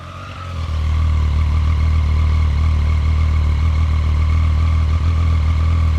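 A Triumph Street Triple motorcycle with stock exhaust cold-starts, cranking and catching, then settles into a steady, loud idle with a low, throbbing rumble.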